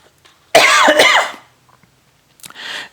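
A single harsh, close cough rasps out loudly, then a faint rustle follows before a brief breathy sound.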